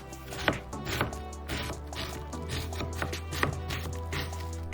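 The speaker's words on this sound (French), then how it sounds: "va falloir couper un oignon en cubes" A knife chops an onion into cubes on a board, giving a series of irregular knocks, some sharper than others, over a steady low hum.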